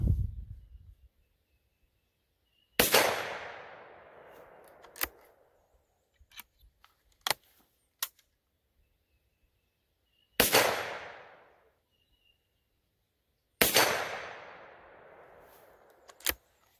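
An outdoor rifle fitted with a Short Lane Pathfinder adapter fires three loud, sharp shots spaced several seconds apart, each with a decaying echo. Faint clicks and small taps fill the quiet gaps between the shots.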